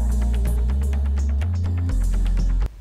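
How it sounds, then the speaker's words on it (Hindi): An electric mixer grinds almonds in a small amount of milk for a date and almond milkshake, giving a loud, steady, throbbing motor hum that cuts off abruptly near the end. "पहले हम इसको बिल्कुल थोड़े से दूध में ग्राइंड करेंगे"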